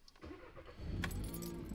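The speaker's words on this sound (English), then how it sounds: "Bloody good cold start." Cold start of a tuned Audi RS3 car engine: a brief key rattle, then the starter cranks and the engine fires into a loud, rising idle.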